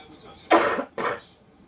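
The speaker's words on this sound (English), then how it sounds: "I've still got a cough" Two short, harsh coughs from a person with a cold, close to the mic, the first louder, separated by a brief pause.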